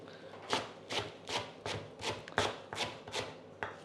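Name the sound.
knife chopping vegetables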